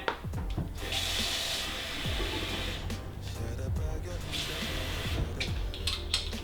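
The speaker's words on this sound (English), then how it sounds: "So now I'm gonna fill it almost to the top with water to get some liquid in there." Tap water runs into a cooking pot during budget meal prep, with two sustained bursts of hissing, splashing flow close by, interrupted by a pause, while a voice talks over it.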